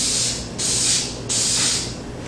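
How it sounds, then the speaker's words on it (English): Short hissing bursts of spray paint coat a frag display rack, three close passes separated by brief pauses, each a bright steady spray with a faint high tone. "I've already spray painted this one direction."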